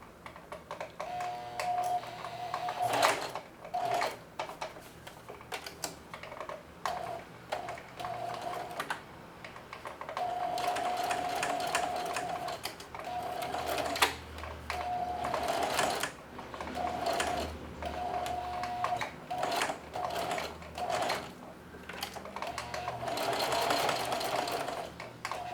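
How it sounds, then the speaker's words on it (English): A sewing machine runs a straight stitch on thick apron straps, a close, rapid mechanical chatter in slow bursts with short pauses and a faint whine from the motor. "Here we go, straight stitching."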